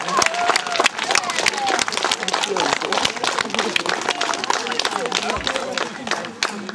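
An outdoor village-day crowd claps for the first-place winner of a strongman contest, sharp, dense claps running steadily for several seconds over a murmur of voices and chatter.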